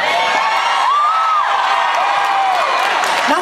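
A large crowd at a concert cheers and whoops loudly and continuously, with shrill rising shouts cutting through a dense wall of applause.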